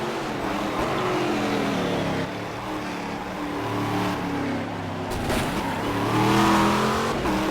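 Stock car engines in the racing game Game Stock Car 2012 drone steadily with rising and falling revs, as a close car holds a loud, sustained tone with no one speaking.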